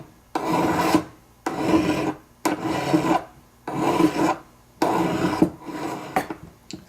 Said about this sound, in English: And I'm filing nice long strokes,